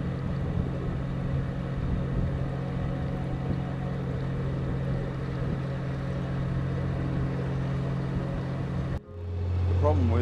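Narrowboat diesel engine running right beneath the cruiser deck, a loud steady low drone with a constant hum, cut off abruptly near the end as a different lower rumble takes over.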